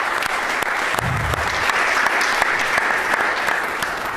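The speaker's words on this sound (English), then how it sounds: "So give him a round of applause" Applause from an audience at a surgery grand rounds event, a steady, fairly loud roar of many hands with distinct individual claps popping out near the front, sustained for several seconds.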